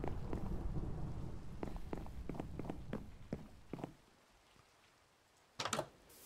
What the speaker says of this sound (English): It's cold out and stormy.